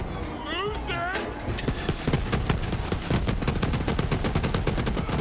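Moze's minigun in the video game Borderlands 3 fires in a rapid, continuous mechanical stream of shots, loud and steady, following a brief whooshing electronic sound at the start.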